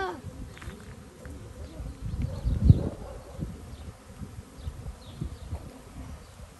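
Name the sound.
swarm of honeybees buzzing around hive entrance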